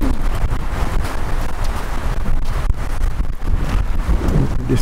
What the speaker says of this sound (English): Wind's blowing pretty good now.